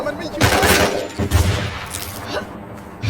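Gunfire in a PvP match of the Infestation video game, bursts of rapid shots with booming crack, loud and close, mixed with game noise.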